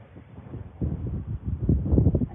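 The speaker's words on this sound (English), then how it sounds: "It's very windy this morning." Low rumbling gusts of wind buffeting the microphone, rising and falling in short bursts.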